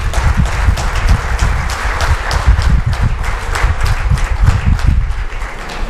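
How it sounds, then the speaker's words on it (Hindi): Sustained applause from an audience at a business training seminar, dense clapping that stays fairly loud and steady throughout with no talk over it. "अगर पसंद आए तो कुछ ज़ोरदार तालियां चाहिए होगी मुझे"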